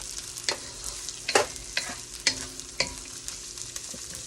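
About two cloves of chopped garlic fry in a very hot wok over medium-high heat, a soft continuous sizzle broken by several sharp scraping stir strokes, with no talking.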